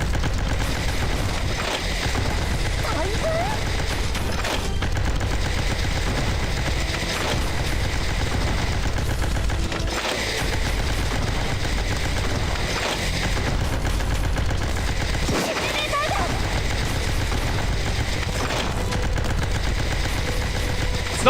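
Continuous rapid machine-gun fire from a game battle over a generator, loud and sustained throughout with no letup, joined by occasional heavier booms and a low rumbling background.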